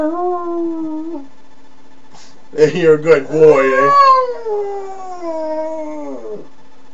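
A pug howls in long, wavering, sung notes close by, with a short burst of higher yelping cries in the middle, while someone speaks warmly to the dog at the start and end.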